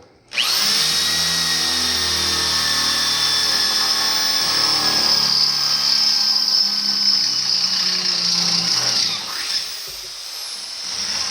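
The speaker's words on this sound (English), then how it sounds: "I can drill these straight through" A power drill whines steadily and loudly through a Chevy S10 truck frame, its pitch shifting slightly as it bites, then winding down near the end.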